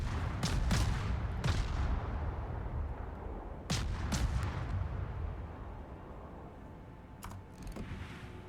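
Gunfire in a video game shooter aimed at bots: several sharp, close shots come in spaced bursts over a steady background hum, with no speech.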